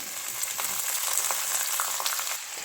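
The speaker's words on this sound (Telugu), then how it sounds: "నెక్స్ట్ ఇందులో తరిగి పెట్టుకున్న క్యాప్సికమ్" Chopped capsicum with turmeric fries in a pan for a spicy capsicum putnala karam fry, giving a dense, steady close sizzle with small crackles throughout.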